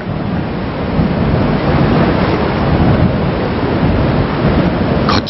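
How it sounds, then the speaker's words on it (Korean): Rough ocean waves crashing on the coast near Moseulpo, Jeju, a loud continuous roar of surf and wind with no talk. "거친 파도 소리가 잠들었던 세상을 깨웁니다"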